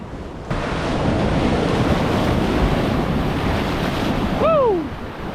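Sea waves splash against loose rocks at Bridgewater Bay, a loud, steady rushing roar with wind buffeting the microphone and a brief high whistle near the end.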